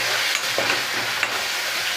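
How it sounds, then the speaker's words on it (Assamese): A turmeric spice paste for katla fish curry fries and sizzles in hot oil in a pan while a spoon stirs and scrapes through it, a continuous close sizzle with soft scraping strokes and no talk. "আৰু এইখিনি ভালদৰে ভাজি ল'ম।"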